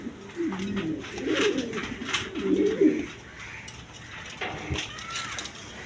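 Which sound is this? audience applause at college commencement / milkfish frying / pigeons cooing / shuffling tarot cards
pigeons cooing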